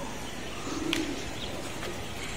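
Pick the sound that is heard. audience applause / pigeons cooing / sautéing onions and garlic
pigeons cooing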